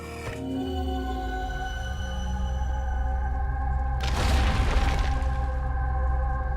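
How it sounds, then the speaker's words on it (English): In the Outer Wilds video game, a cannon fires with a deep, booming burst midway through, rolling into a loud rumbling wash over a sustained tonal musical drone; no talk. "Oh, this is the cannon."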